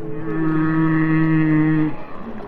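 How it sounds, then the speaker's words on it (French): A male whale sings underwater during the mating season beneath a boat, giving one drawn-out, moaning harmonic call that holds steady for about two seconds and then stops. "Ils sont au-dessus d'une baleine qui vocalise."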